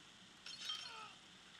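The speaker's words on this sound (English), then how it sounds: "Oh god, the glass stabbed me." In the Happy Wheels video game, glass breaks with one quiet, short crash and a tinkling clink that fade away quickly.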